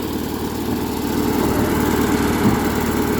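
A tractor engine runs steadily at a loud, continuous drone while being used to knock down a pile of material, with a low rumbling throb and no breaks.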